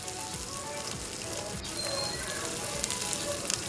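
Cauliflower and chayote sizzle steadily in a hot pan while being stirred for chop suey, a continuous crackling hiss that holds even throughout with a few brighter pops near the end, no voice over it.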